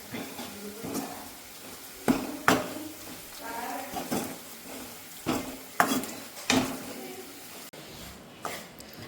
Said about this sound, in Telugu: తాలింపు కోసం ఇలా వెల్లుల్లిపాయలు అయితే వేపుకోవాలన్నమాట